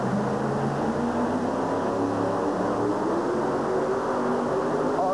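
The pulling truck Heartbreaker at a 1991 USHRA truck pull in Worcester, its engine roaring loud and sustained with a dense, steady rumble throughout.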